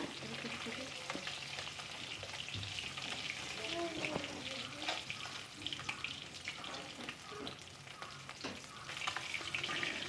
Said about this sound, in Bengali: পরবর্তী মাছগুলোকে আমরা ভেজে নেব এই মাছগুলোকেও লাল লাল করে ভেজে নিচ্ছি